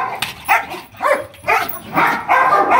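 A hybrid dog barks during attack-training work, giving a string of loud, close barks and yips at a steady, roughly half-second rhythm.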